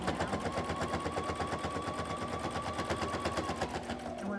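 A sewing machine stitches the closing seam of a fabric microwavable bowl cozy, running at a fast steady rhythmic clatter close up before slowing and stopping at the end; a voice talks faintly over it.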